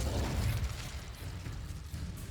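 The Incendio fire spell in the video game Hogwarts Legacy: a roaring, crackling burst of flame that is heaviest in the low end at the start, then settles into a rushing hiss for about two seconds.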